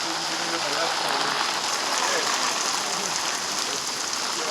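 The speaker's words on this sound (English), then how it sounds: "There you go, free rain." Rain pours during a hail storm in Colorado Springs, a dense, even hiss of drops on surfaces that holds steady and close throughout the few seconds with no pauses.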